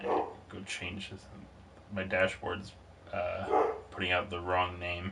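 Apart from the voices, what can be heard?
dog barking in the background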